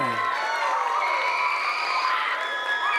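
A crowd of excited children cheers and shouts at a Space Center Houston STEAM event for the Ax-2 mission, a dense, continuous high-pitched roar of young voices with whoops, sustained throughout.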